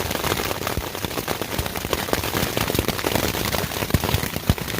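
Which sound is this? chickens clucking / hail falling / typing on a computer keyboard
hail falling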